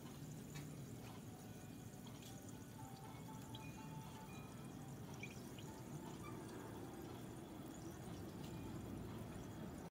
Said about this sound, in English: you are now going to pour the vinegar into the cup with the worms.